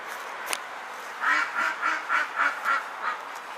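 Ducks quacking near the water at a church festival, a steady series of about seven evenly spaced quacks in a rhythmic chain, clear and close with no voices over them.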